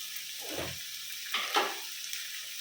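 Oil frying for a poori side dish gives a soft, steady sizzle, with a brief low thud early on and a couple of louder crackling bursts near the middle.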